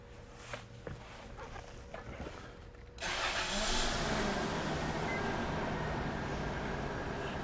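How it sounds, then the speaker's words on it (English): A 1999 Toyota 4Runner with a cylinder 2 misfire cranks and starts about three seconds in, then settles into a steady, close idle that continues to the end, with faint handling noises before the start. "I'm going to go ahead and start it up and confirm that we have the misfire happening right now,"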